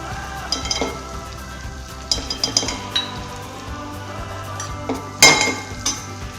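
Asafoetida and turmeric being sautéed for besan vadi in a pan, with light clinks of a spoon against metal and soft stirring scrapes over a faint sizzle, close and fairly quiet.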